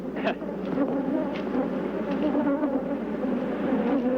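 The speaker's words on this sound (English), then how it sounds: "I actually feel the bees hitting me." Dense, steady buzzing of a large swarm of attacking killer bees close by, droning continuously with occasional louder passes as individual insects zip near and hit.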